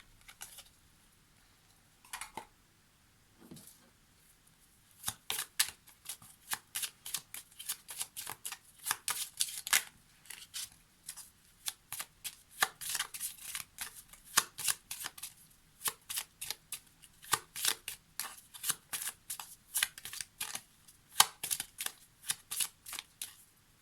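Lenormand oracle cards are shuffled by hand, with a couple of soft handling sounds and then a long series of quick, crisp, snapping bursts as the cards slap together, close and clear in a quiet room.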